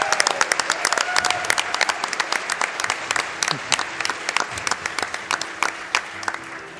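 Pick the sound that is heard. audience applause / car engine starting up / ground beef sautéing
audience applause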